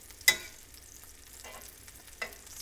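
Breaded chicken sizzles in a pan, a faint steady frying hiss marked by a few sharp clatters of turning or stirring spaced through the sound.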